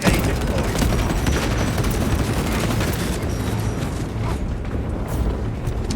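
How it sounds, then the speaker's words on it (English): A shock grenade explodes amid dense battle noise in Space Marine 2, with loud continuous crackling and booming that stays heavy throughout. "Shock grenade deployed!"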